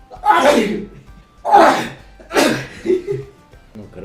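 Three sharp sneezes in a row, each a loud burst with a short pause between, after sniffing wood sorrel; a quieter breathy sound follows at the end.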